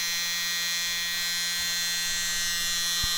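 A mini blower runs continuously with a steady, high-pitched electric whine and a constant hum, pushing acrylic paint in a small Dutch pour, with no talking.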